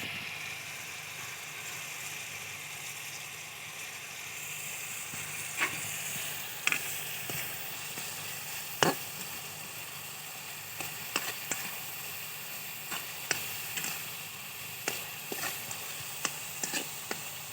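Red chilies sizzling and frying in a pan, a steady hiss of hot oil close up with occasional sharp crackles and pops, no voices.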